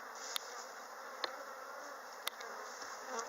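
A steady, close buzzing of many honey bees humming together at a hive during a spring inspection, with a few faint clicks.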